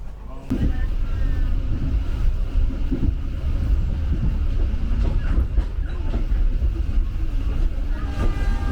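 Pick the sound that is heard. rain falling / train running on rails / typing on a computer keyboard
train running on rails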